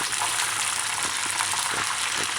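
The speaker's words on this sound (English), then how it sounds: "make sure that they're in a good spot and frying nice." Chicken pieces deep-fry in a pot of hot oil, giving a steady, dense bubbling sizzle with faint crackles, heard up close and without voices.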